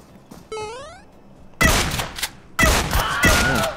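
Gunshots in PUBG Mobile: a short rising electronic tone, then two loud, sharp bursts of shooting about a second apart, each trailing into rattling noise.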